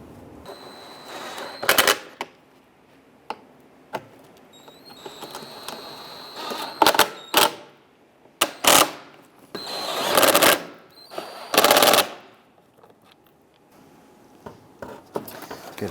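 Bolts being snugged down on a 2002-2008 Dodge RAM A/C condenser with a power ratchet or impact tool: several short whirring-rattling bursts of varying length separated by quiet pauses, close and loud.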